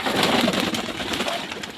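Pigeons coo softly nearby while bathing in water, a low burbling call over a faint splashy background.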